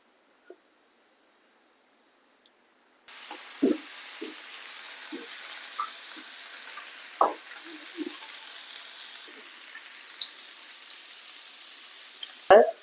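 Mackerel frying in coconut oil, a steady sizzle starting abruptly after a short quiet opening, with scattered pops and spatters and a louder clatter at the end.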